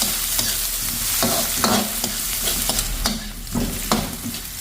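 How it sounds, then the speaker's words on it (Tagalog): Garlic, onion and ginger sautéing in a pan before crab goes in, a loud crackling sizzle with repeated scraping and tapping of the spatula at an irregular rhythm, close up and without voices. "Igisa na po natin yung ating bawang, sibuyas, tsaka luya."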